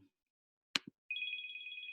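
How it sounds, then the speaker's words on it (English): A mobile phone ringtone starts after a short click and thump, a faint electronic pulsing trill repeating steadily in a quiet room. "I forgot to mute my phone."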